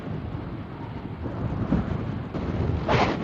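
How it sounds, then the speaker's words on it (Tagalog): Strong wind buffets the microphone in a steady, heavy rumble, with gusts swelling louder toward the end, while riding a road in Luzon, Philippines. "Lakas ng hangin dito."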